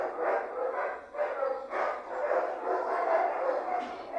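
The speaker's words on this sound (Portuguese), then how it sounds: "Parece que todos os cachorros do mundo resolveram agora se manifestar." A chorus of dogs barks across the neighborhood, with overlapping yips and barks coming in rapid, continuous rhythm. They sound moderately distant and fill the clip with no talking over them.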